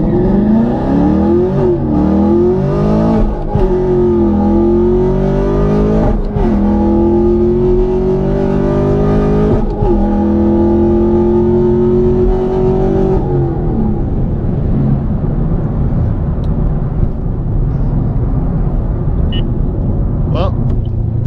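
A sixth-generation Chevrolet Camaro SS with a naturally aspirated V8 launches hard with wheelspin and climbs rapidly through several gears, each loud rising engine howl cut by a quick shift, before the revs settle into a lower drone.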